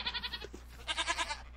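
Goats and sheep in a modded survival game bleat in two quick bursts of pulsing, stuttering cries separated by a short gap, fairly clear and close over a faint hum, with no speech.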